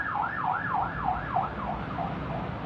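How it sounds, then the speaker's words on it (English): An ambulance siren wails in a steady, repeating up-and-down cycle, loud and continuous throughout with no voices. "at least once the ambulance goes by"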